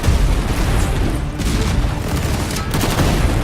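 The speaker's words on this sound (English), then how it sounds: "We built a whole town in Namibia and then blew the whole town up." A large explosion demolishing a specially built film set town in the Namibian desert, heard as a dense, loud, sustained rumbling roar with crackling debris that fills the whole stretch without a pause.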